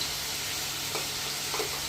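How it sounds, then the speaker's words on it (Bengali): Kashmiri chilli, turmeric and salt frying lightly in a pan, a steady soft sizzle throughout with a couple of faint stirring scrapes near the middle and end. "মানে হালকা ভাজা হয়ে গেলে এটা মিশিয়ে দেবো"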